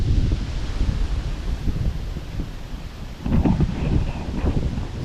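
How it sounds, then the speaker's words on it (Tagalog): Strong storm wind roars and buffets the microphone in gusts, with rustling underneath and a louder blast near the end. "Lumakas na naman ang hangin dito. Magkakalakas na naman ang hangin."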